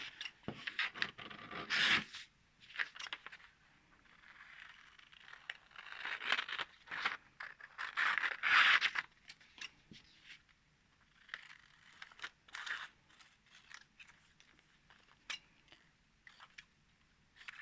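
Scissors cutting through a sheet of paper dress pattern along slash lines, heard as close, intermittent rasping snips and crinkles in bursts with short pauses, no talking.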